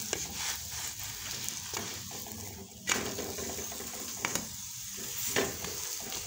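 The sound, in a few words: lachha paratha roasting on a pan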